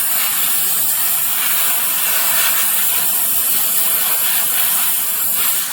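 Compressed air blown steadily over a denture reline coat to thin it, a loud, close, continuous hiss that holds unbroken throughout with no talking.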